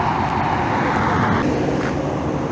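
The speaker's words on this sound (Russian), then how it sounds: "Вот такое большое движение в городе, шумно" Busy city traffic roars steadily and close by, a dense wash of passing cars and buses with no pauses and no voices.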